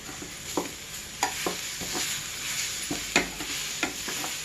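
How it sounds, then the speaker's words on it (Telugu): Spiced potato masala for dosa, seasoned with sambar chilli powder, is stirred in a hot pan, giving a soft continuous sizzle broken by repeated close spoon scrapes at an uneven rhythm. "ఇవన్నీ చక్కగా అన్నీ వేసుకొని ఈ విధంగా కలుపుకుంటూ అడుగు అంటుకోకుండా కలుపుకుంటూ ఉంటే"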